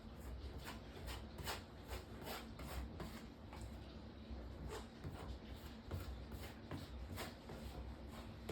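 Acrylic molding paste, partly dried, is spread across a canvas during an abstract painting, giving a steady close scraping and rubbing texture with repeated stroke-like swishes throughout.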